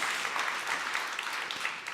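A small audience applauds at a conference session, a steady, fairly soft patter of clapping heard from a moderate distance for about two seconds.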